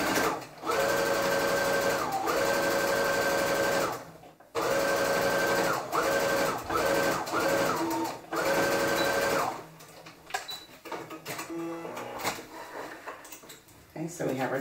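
A foot-pedal sewing machine stitches darts on a garment in long steady whirring runs, stopping and starting several times, then giving way to quieter handling noises.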